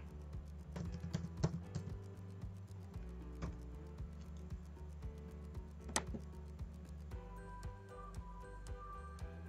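Faint keyboard typing at a computer while logging into an online banking account, with scattered soft key taps and clicks over low background hum, no voices.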